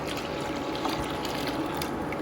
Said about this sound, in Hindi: तो मैं इसमें पानी और डाल रही हूँ